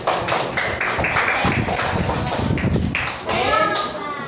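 Children in an elementary school classroom clap for a classmate, a busy patter of close, uneven claps and taps mixed with shuffling and a voice speaking over them.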